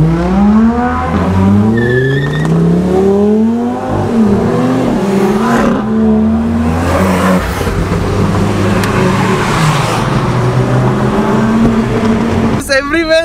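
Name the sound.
loud supercars driving and revving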